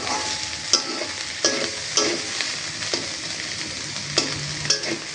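Radish greens and shrimp fry in a pan with a steady sizzle, broken by repeated scraping stirs of a spatula at an uneven rhythm.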